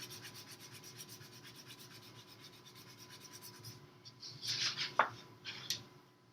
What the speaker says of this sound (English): And rub.